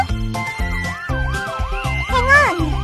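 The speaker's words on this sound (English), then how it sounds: "I found it! Police car!" A loud police siren wails nearby in repeated rising and falling sweeps, layered over steady electronic tones.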